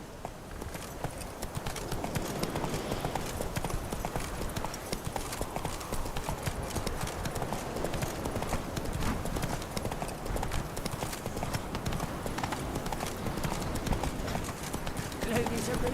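Rapid clip-clop of the horse Roach galloping in The Witcher 3, a steady, continuous hoofbeat rhythm close up throughout, with someone talking over it.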